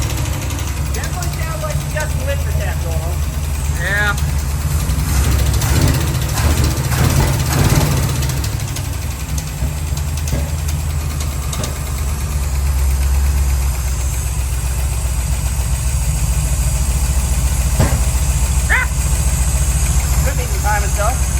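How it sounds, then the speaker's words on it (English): An old dually pickup engine idles with a light, rapid ticking from a lifter, a steady mid-pitched rumble close by with people talking over it. "Sounds like a lifter tick."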